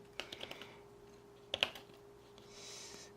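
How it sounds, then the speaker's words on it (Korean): Crisp plastic key clicks from an iPad Pro Smart Keyboard Folio, a short burst of light taps followed by a pause and then a second quick cluster, close and fairly quiet in a still room. "제가 한번 앱을 켜서 글자를 한번 써볼게요"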